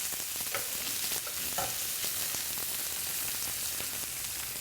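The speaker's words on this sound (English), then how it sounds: "gonna sear your andouille sausages in the skillet" Andouille sausages sear in a skillet with a dense, steady hiss of frying fat, broken by a few sharper crackles and stirring scrapes, close up with no voices.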